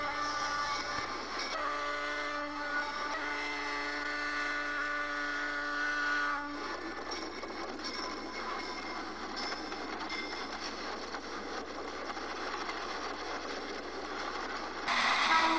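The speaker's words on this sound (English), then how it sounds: "About 20 minutes later, D&H number 19 arrives at Port Henry Station." A Delaware & Hudson train arrives at Port Henry Station with a loud, steady rumble and a sustained horn blast early on, then continues rolling nearby.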